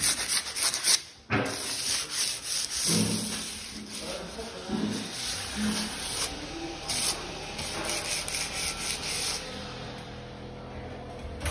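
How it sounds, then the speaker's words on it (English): Drywall tape is smoothed under a spatula, making soft, uneven scraping and rubbing strokes over a constant high electronic whine, fairly quiet and close. "This one won't have any bumps when I'm passing my spatula."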